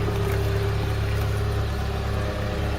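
A car engine with a freshly repaired exhaust runs at a steady idle, giving an even, continuous low hum close by with no talking.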